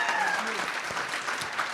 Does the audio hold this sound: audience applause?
yes